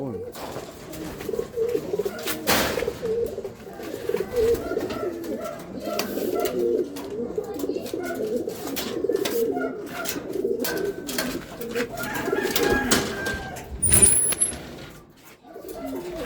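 Racing pigeons coo steadily at a loft as birds return from a 104 km race, a continuous low burbling chorus with occasional wing flaps and a short sharp chirp near the end.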